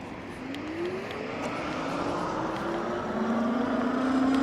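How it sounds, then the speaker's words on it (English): An Eskute C300R electric bike accelerates on twist throttle alone, its motor whine climbing smoothly and steadily in pitch over constant road and wind rush, with no voices. "Now we're just going to use a twist throttle. Let's see how fast it can go."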